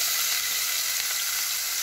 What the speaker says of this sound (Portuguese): azeitezinho já tá na panela.